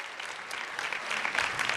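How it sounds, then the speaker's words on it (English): Applause from an audience at a conference session honouring youth community leaders, a steady wash of many hands clapping that swells slightly toward the end, with no talking over it. "I think they deserve another round of applause for the youth community leaders indeed."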